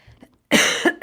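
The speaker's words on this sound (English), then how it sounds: "I'm sorry, I'm about to cough again." A few harsh, close coughs burst out one after another during a live online reading session, loud and alone after a faint breathy lead-in.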